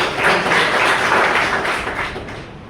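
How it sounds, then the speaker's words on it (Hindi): Applause from a training-session audience: dense, sustained clapping that stays loud for a couple of seconds, then tapers slightly. "एक बार जोरदार तालियों की चाहिए"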